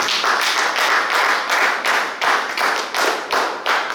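A church congregation claps in praise of the Lord, a dense, fast, continuous clapping with a steady pulsing rhythm that fills the room.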